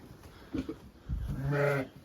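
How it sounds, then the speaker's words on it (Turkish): Sheep in a tent pen put up to replace a collapsed barn, with ewes about to lamb, give a short, loud, quavering bleat near the end after a few soft shuffles and thumps. "Bunlar doğurmayan koyunlarımız."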